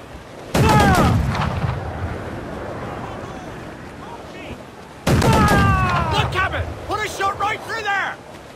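Ship cannons fire a broadside in a naval battle in Assassin's Creed IV Black Flag, two loud bursts of rapid booming shots with rumbling decay, while crew voices shout over the gunfire.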